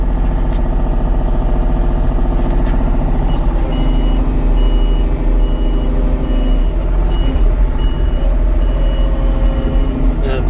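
A small bulldozer-like machine with a raised blade reversing on a woodyard, its backup alarm beeping in a steady, evenly spaced pulse over a loud, constant engine drone.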